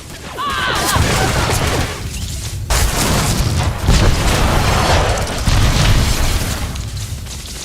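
Loud blasts of blaster gunfire in a Star Wars: The Old Republic battle on Nar Shaddaa, dense repeated bursts and booms layered over a busy game soundscape throughout.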